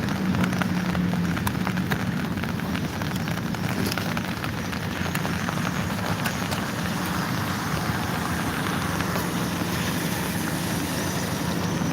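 Steady rain patters continuously on surfaces on a warm evening near a Ukrainian Orthodox cathedral, a dense hiss with scattered drips and no talking.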